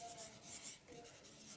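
A marker or chalk scratches across a board during a math lesson, soft short strokes in quick bursts, close and faint with no talking.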